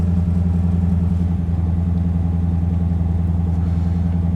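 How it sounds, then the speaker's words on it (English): A 1986 Corvette engine with a newly replaced mass air flow sensor idles steadily and close by, a constant low mechanical hum with an even rumble throughout. "It's idling."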